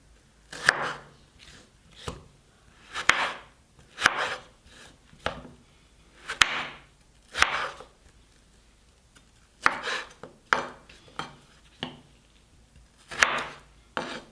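Knife chopping through potatoes on a cutting board for homemade fries, a series of sharp, close taps spaced irregularly with quiet gaps between, no talking.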